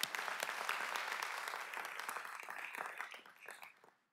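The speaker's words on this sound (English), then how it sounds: "Please give them a round of applause." Audience applause at a police academy graduation ceremony, steady clapping across a hall that holds strong for several seconds, then thins and fades out at the end.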